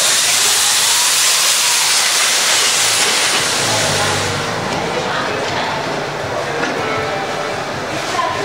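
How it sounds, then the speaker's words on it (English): Steam injected into a bread oven while ciabatta rolls bake gives a loud, continuous broadband hiss that fades slightly after a few seconds, with a low machinery rumble underneath. "we hit 2 seconds of steam again"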